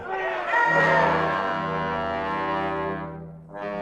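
Agitated crowd in a vintage radio drama, a swelling mass of shouting voices with a low droning tone underneath that fades briefly and then surges back.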